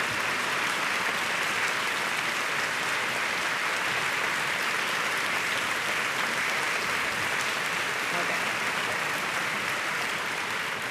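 A conference audience gives a standing ovation to patient educators, with sustained, even applause filling the hall throughout without a break.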